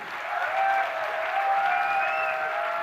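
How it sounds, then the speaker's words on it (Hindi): A crowd at a welcoming rally in Kota claps in sustained, dense applause, with a steady tonal whine running through the even, fairly loud noise. "कितनी तालियां होनी चाहिए?"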